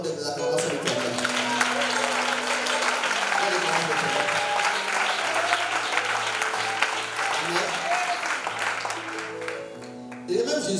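A church congregation claps and cheers together in sustained applause, with voices calling out over the clapping before it tapers off at the end.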